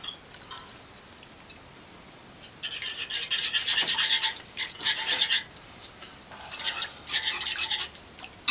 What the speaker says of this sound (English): You whisk it in while it's cold.